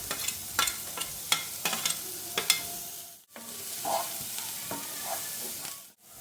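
Green chillies and garlic sizzling in hot oil while being stir-fried for crispy corn, a soft steady frying hiss broken by repeated scraping stirs of the spatula.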